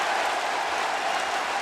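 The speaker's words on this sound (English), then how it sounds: "the crowd's going bananas" A wrestling arena crowd at a professional wrestling match roars and applauds in a dense, steady wash of noise, loud and unbroken throughout.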